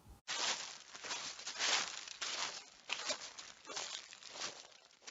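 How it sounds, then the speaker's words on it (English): Footsteps from a children's audio story, heard again: a dense run of crunchy, rustling steps at a brisk, uneven pace, close and fairly loud, continuing without pause for about five seconds. "It's the sound of footsteps."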